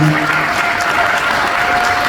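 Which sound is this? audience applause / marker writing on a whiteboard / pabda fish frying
audience applause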